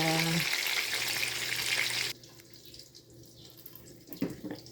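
Pork for bistek tagalog fries in a pan with a loud, close sizzle that cuts off abruptly partway, leaving quieter clatter and a brief knock near the end.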